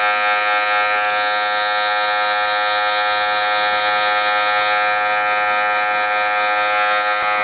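Electric hair clippers buzz steadily and fairly close throughout a fade haircut, a continuous motorized hum with no talking over it.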